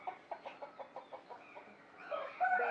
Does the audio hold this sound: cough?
no